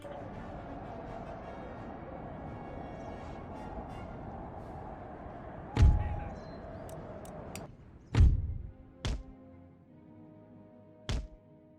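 Artillery fires in an Empire: Total War battle as a Prussian force: four heavy, booming thuds land at irregular intervals over a steady rumble of ambient battlefield noise.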